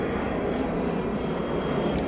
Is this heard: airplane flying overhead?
yes